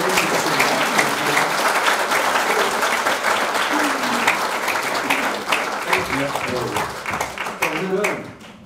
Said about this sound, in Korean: 총리님께 큰 박수를 부탁드립니다.